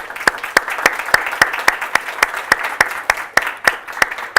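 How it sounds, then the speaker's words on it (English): Audience applause for a panel at a community talk on food insecurity, a small crowd clapping in a steady stream of sharp, distinct hand claps that continues evenly throughout. "I would like to give a very big round of applause for our panel today"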